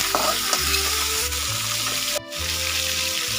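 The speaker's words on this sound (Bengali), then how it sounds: "এখন আমি কেটে রাখা পটলগুলো ভেজে নেব হলুদ লবণ দিয়ে পটলগুলো ভেজে নেব" Sliced pointed gourd fries in hot oil with turmeric and salt, giving a loud, continuous close sizzle with a low steady hum beneath and no talking.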